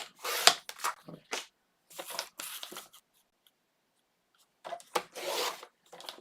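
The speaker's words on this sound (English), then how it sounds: "take your vellum and you're going to cut this to 8 by 8" Vellum paper being trimmed down to an 8 by 8 square for a Doodlebug shadowbox insert: several short bursts of crisp, papery cutting and rubbing, with a long quiet pause midway before a few more strokes, close up.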